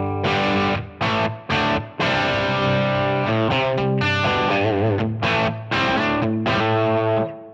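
An electric guitar plays through a Line 6 Helix Voltage amp model with no compressor, heard as loud, overdriven, sustained chords and riffs in phrases broken by short pauses, played alone.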